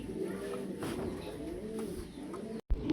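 Pigeons at a farm loft coo in soft, low, repeated throaty calls. The cooing runs continuously and close by, with a brief cut near the end.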